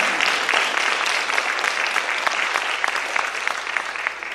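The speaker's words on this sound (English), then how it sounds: "more people need to clap for doing work for your community" A crowd at a GED graduation ceremony applauds in a steady, dense roar of clapping that carries on evenly for several seconds with no talking over it.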